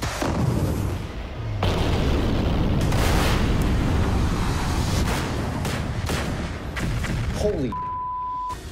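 A series of heavy booms and rumbling blasts, loud and close, layered with crackling debris and brief voices in between, from MythBusters explosion tests.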